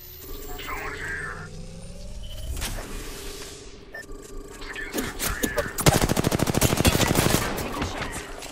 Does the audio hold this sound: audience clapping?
no